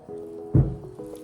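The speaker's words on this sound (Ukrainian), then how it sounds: "Я вмочую руки гарненько в воду і забираю тісто наше на поверхню." Wet hands lift soft biscotti dough onto a work surface, making one soft, close, damp squish over a faint steady background hum.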